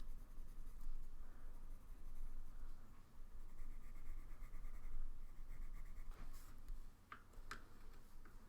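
Faint, steady scratchy strokes of colored pencil on paper continue throughout, with a few light ticks near the end, quiet and close with no voices.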